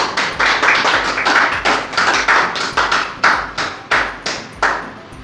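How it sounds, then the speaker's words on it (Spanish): A church congregation claps in a steady rhythm, each sharp beat ringing briefly in the room, strong and evenly spaced. "den un aplauso a Cristo, aleluya"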